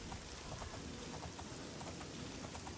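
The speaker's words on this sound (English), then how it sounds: "Let's get you out of the rain." Steady rain falls in the video game Oblivion, a soft, even hiss of droplets that continues unbroken and fairly faint throughout.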